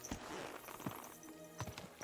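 Hooves clip-clop in a few spaced, faint steps of a horse in the video game Kingdom Come Deliverance 2, heard at low level over quiet background ambience.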